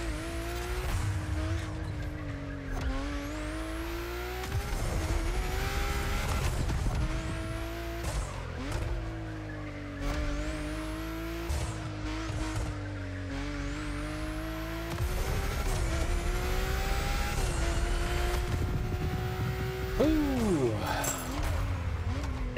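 A BMW i8 Roadster hypercar in the racing game The Crew Motorfest, its engine steadily droning and rising through gear changes, with repeated tire squeals and skids as it corners hard.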